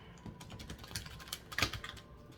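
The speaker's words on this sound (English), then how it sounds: "We're going to shuffle one more time and then we're going to cut." A deck of tarot cards being shuffled, heard as a quiet, close, continuous flutter of rapid papery riffles and taps with small surges, no voices.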